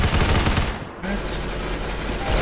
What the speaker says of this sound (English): this gun sounds sick